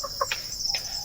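Native chickens on a farm give a few short, close clucks and chirps over a steady high insect-like hum, fairly clear and isolated.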